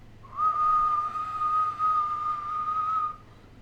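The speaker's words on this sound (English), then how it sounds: "you hear the whistling now" A single sustained whistle echoes through underground tunnels in a fantasy tabletop game scene, holding one steady pitch for about three seconds at moderate loudness over a low hum.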